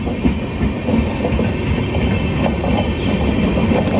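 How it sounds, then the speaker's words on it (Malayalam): A passenger train of LHB coaches rolls through Ezhimala railway station, a steady close rumble with rhythmic clickety-clack of wheels over rail joints, continuous and without talk. "എന്ത് രസമല്ലേ LHB കോച്ചുകൾ ഇങ്ങനെ പോകുന്നതാണ്"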